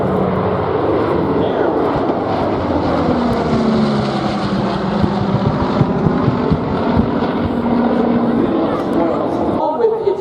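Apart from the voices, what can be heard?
B-29 Doc bomber flying by at Oshkosh airshow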